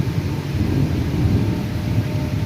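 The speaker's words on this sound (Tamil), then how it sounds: "இடி தான் குமுறுது, மழை அந்தளவுக்கு பெருசாக பெய்ய மாட்டேங்குது" Thunder rolls in a steady low rumble during light rain in Kerala, a continuous deep grumble that fills the whole stretch without any voices.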